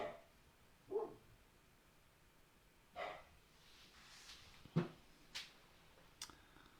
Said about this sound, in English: Please excuse me if you can hear my dog barking,